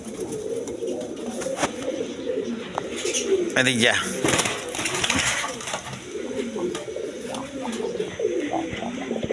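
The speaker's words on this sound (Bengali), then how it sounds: "এইখানে আরেক পেয়ার ইন্ডিয়ান বোম্বাই কবুতর আছে, একদম কোয়ালিটি সম্পন্ন কবুতর" A pair of Indian Bombay pigeons coo in a loft, soft low rumbling calls running continuously near the microphone, with someone speaking over them and other birds chirping faintly.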